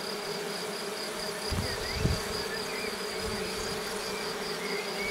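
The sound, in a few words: honeybees buzzing in a Layens hive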